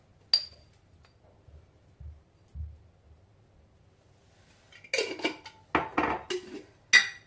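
A small spoon clinks against a bowl while chilli powder is measured out for cauliflower pakodi batter, a few sharp close taps and scrapes in a quiet kitchen.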